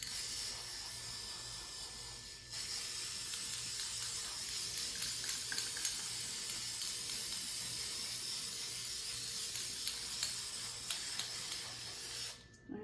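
Spray paint hisses steadily from an aerosol can onto a ceramic deer, a loud close continuous spray held for about ten seconds after a short opening burst, with no talking.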